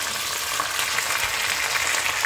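Pork shoulder cooks in a pan on low heat, giving a steady, close sizzle and crackle with no pauses.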